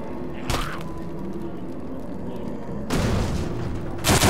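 Explosions in the zombie shooter No More Room in Hell: a sharp blast at the start, then two heavy broadband booms near the end over a steady rumbling game backdrop, fairly loud and close.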